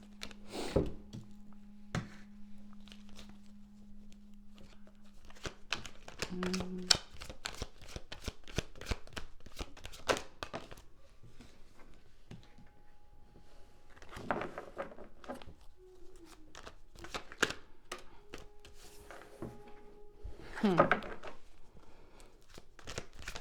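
A deck of tarot cards is shuffled over and over in a quiet room, giving a steady run of soft riffling patter, with a few louder flurries and light thumps as the cards are squared.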